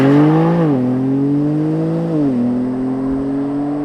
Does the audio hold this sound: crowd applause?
no